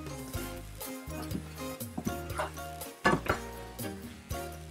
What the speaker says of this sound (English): We're going to go ahead and add our green onions now. And give it just a quick stir.